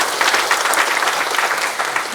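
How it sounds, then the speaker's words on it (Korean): A church congregation breaks into applause at a Sunday service, a dense burst of many hands clapping together, steady and fairly loud throughout, with no one speaking over it. "이거는 박수 한번 쳐야 돼."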